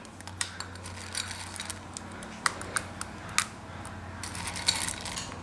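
Faint clinks and scrapes of dishes and utensils rattle intermittently in the background of a quiet room, light irregular kitchen clatter with no talking.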